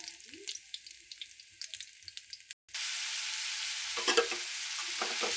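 Garlic frying in a pan while being stirred, with light scraping and clinks at first, then a brief gap before a loud, continuous sizzle, and a few stirring knocks near the end.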